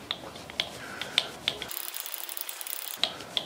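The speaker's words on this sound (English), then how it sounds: "And do these screws up a little bit." Screws being tightened on a rotary table in a machine shop while centering work: a series of sharp ratcheting clicks and small metallic ticks, fairly close and spaced irregularly, with no voices.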